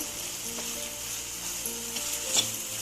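Three large sliced onions fry in oil for egg bhurji, giving a steady close hiss with a faint clink near the end and no voices.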